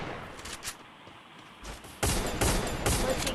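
MP5 gunfire in a Free Fire-style shooter game: a quiet stretch with a few faint shots, then a loud rapid burst of automatic fire in the last second and a half.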